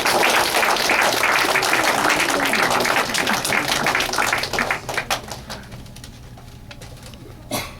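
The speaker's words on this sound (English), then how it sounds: "Can we have a round of applause, please?" An audience at a panel discussion event gives a round of applause for a memento presentation; loud, dense clapping runs for about five seconds, then thins and fades to scattered claps.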